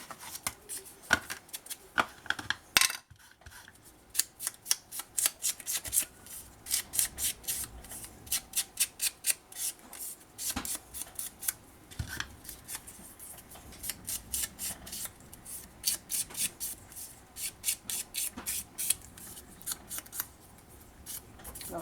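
Scissors snip through scrapbooking design paper in quick bursts of crisp, close cuts, with pauses and paper rustling between runs of rhythmic snipping.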